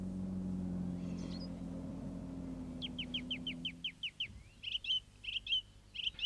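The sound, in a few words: birds singing in the dawn chorus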